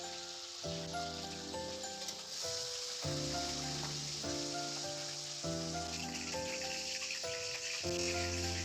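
Katla fish pieces fry in hot oil in a pan, a steady soft sizzling hiss that runs unbroken beneath louder background music.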